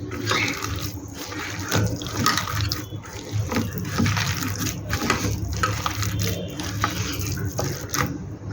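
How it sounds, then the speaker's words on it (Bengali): Water is poured and stirred into chhana (paneer) pakora batter in a home kitchen, a steady close wet mixing and sloshing that runs the whole time with no talk. "আর একটু জল লাগবে।"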